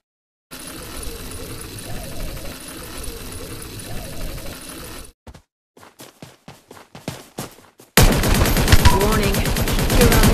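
An incoming bombardment in the Omega Legends mobile game rumbles steadily, then breaks into choppy, rapid impacts and finishes with a loud, dense barrage.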